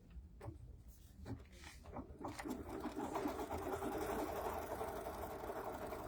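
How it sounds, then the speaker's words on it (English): A KimberBell embroidery machine stitches a placement line on a quilt block, building from a few clicks into a steady, close mechanical whirr that runs continuously to the end. "we are going to stitch our first placement line"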